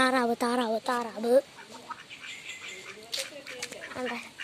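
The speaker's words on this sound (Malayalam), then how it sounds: "താറാവ്." A quick run of loud, nasal duck quacks opens the recording near a fish pond, then quieter talking and outdoor background noise follow.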